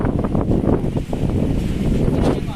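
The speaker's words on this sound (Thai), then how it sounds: "ลมแรงมากตอนนี้นะคะเหมือนฝนจะตกนะคะ" Strong wind gusts roar outdoors ahead of a storm, a loud, close buffeting rumble that swells and dips unbroken, with no voices.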